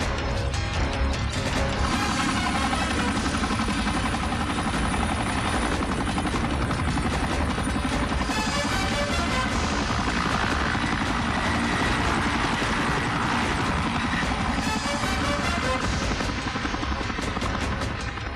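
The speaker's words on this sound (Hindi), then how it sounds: "वो लड़का हमारे बेस से हेलीकॉप्टर लेकर उड़ गया है, तुम्हारी तरफ ही आता होगा" Helicopter flying overhead, a loud continuous rotor chop and engine whine filling the whole stretch, constant and close with no talk.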